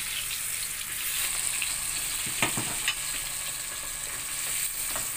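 Food frying in oil until golden and crispy, a close, continuous sizzle and crackle with a couple of brief utensil clicks midway, alone without talk.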